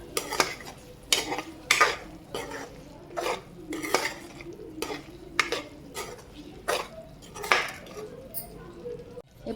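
A spoon scrapes and knocks against a metal pot of egg dum biryani in steady, repeated stirring strokes, close and fairly loud, with no talking.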